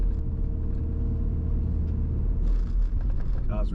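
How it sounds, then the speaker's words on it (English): A car engine in a coastal Tasmanian setting rumbles steadily and swells slightly as it revs, a continuous low drone throughout. "Cars revving a bit."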